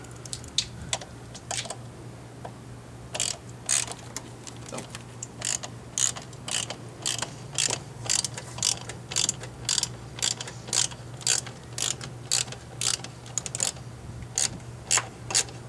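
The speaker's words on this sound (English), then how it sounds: "this one I might grab my wrench" A wrench tightens a bolt while a Scion tC Injen cold air intake is installed on a 2011 car. It gives a steady run of sharp, close ratcheting clicks over a low, constant hum.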